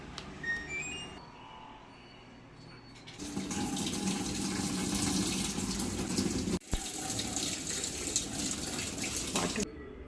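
A washing machine tub fills with water during a tub clean cycle: a few soft electronic beeps, then a sudden, steady, loud rush of inflowing water that continues to the end.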